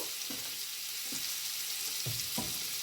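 Onions and peppers sautéing in hot fragrant oil for chilli prawns, a constant close sizzle with a few soft stirring thumps.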